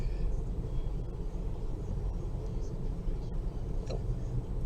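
Race cars circuiting the Bathurst track, a steady broadband engine and road roar running continuously, fairly loud and close with no clear pass-by peaks.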